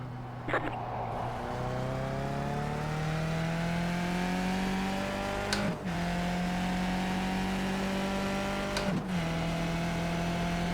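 Skip Barber race cars lapping Canadian Tire circuit in the iRacing simulator, a steady engine drone with rising harmonic pitch as the cars accelerate, broken by two brief gear-shift dips.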